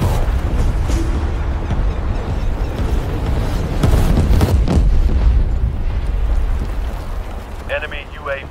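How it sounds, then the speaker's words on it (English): Enemy artillery fire in the multiplayer shooter World War 3 on the Warsaw map, heard as a continuous heavy rumble of blasts and booms, with a stronger cluster of impacts partway through and radio-style voice callouts over the din. "Enemy artillery fire incoming."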